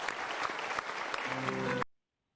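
Applause from an audience during a talk on the ideal public speaker, brisk and dense clapping at moderate volume, with a faint tonal hum rising near the end before the sound cuts off abruptly to silence.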